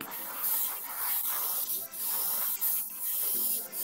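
An airbrush sprays paint onto a model aircraft kit, a steady close hiss running continuously with brief dips where the trigger eases off.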